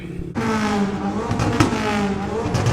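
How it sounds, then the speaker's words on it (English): A car engine revs loudly at a JDM car meet, holding a high, raspy drone after a sudden start, with a brief sharper burst midway. "There's someone revving the heck out of their engine over there."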